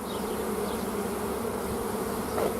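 Honey bees droning around an open hive during a hive split, a dense steady buzz close by with no talking.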